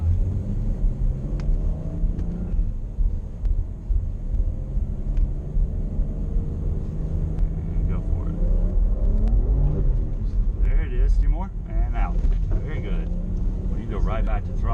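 BMW car driving on snow at a performance driving center, a low engine rumble and drone that rises and falls as it regains grip, with an instructor talking over it.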